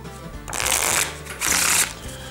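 Bicycle Flying Machines playing cards are shuffled in two quick, close riffle bursts, each a crisp rapid flutter of card edges, separated by a brief pause.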